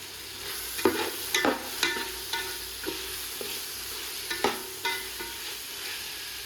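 Onion and tomato being stirred into beef masala in a pan, a steady sizzle broken by repeated scraping spoon strokes at an uneven rhythm, close and moderately loud with no talking.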